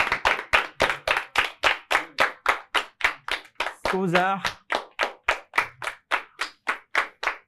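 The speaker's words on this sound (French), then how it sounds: "On va recevoir avec les applaudissements les plus nourris." A studio audience at a Saturday evening TV show claps in a steady, rhythmic unison beat of about three claps per second, a brief voice breaking in once near the middle.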